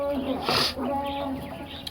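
A flock of about a hundred quail on a farm chirps and calls in busy overlapping bursts, close by, with a steady hum of chatter throughout.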